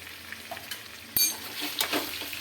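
Mutton frying with Kashmiri chillies in a pot for biryani gives a steady close sizzle, with a brief scrape of stirring partway through and no talking.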